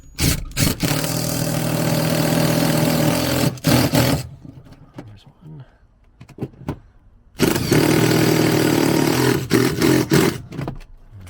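An impact wrench on the seat bolts of a 2003 Ford Harley-Davidson F-150 gives loud sustained buzzing bursts at the start and end, with short rattling hits and a quieter gap in between.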